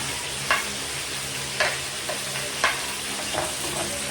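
Chicken frying in a pan with garlic and onion for chicken pastel, a steady close sizzle with several light clicks from a turning utensil, no voices.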